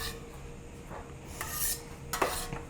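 Sticky rice is scraped off a blender with a spatula onto a flat-top griddle, making soft, uneven rasping and scraping sounds with a few sharper metallic clinks toward the end.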